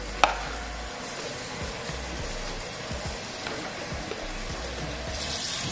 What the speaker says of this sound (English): now we're putting water in so we can boil them